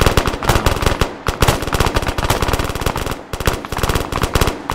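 Sustained automatic gunfire from the military video game Arma 3 rattles in rapid, loud bursts with only brief gaps, close and dense, with no talk over it.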